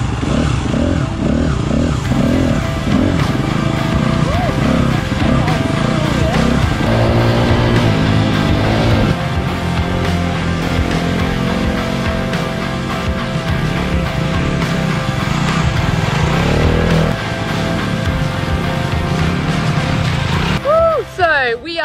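Honda CRF 250 RX off-road motorcycle ridden through forestry trails, engine droning and revving continuously up close with shifting pitch, plus clatter and scraping from rough terrain, and occasional voice over the noise.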